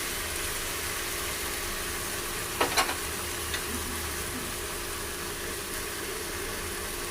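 Mutton frying in a pan with ginger-chili paste and a spoonful of turmeric, a dense steady sizzle that runs throughout, with a brief clatter of stirring near the middle.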